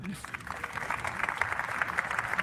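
Brief scattered applause from a keynote watch-party audience for a demo, fairly quiet and short, with talk running over it.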